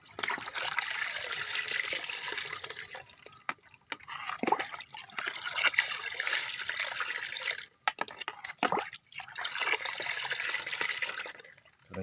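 Water poured onto a ground herbicide mixture, a continuous close splashing and trickling in several long pours separated by short pauses.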